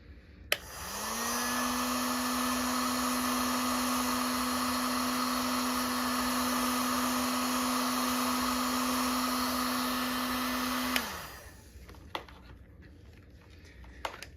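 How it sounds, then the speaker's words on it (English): A heat gun on its low setting switches on with a rising whir, holds a steady loud airy hum with a fixed tone for about ten seconds, then winds down and stops, followed by a few small clicks. "And then I'm going to use a heat gun on the low setting."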